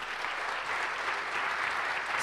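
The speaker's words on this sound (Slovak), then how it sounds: "Veľký potlesk patrí Stanislave Škvárkovej." Steady applause from an audience honoring an athlete at an awards ceremony, a continuous dense clatter of clapping that fills the whole stretch at even loudness.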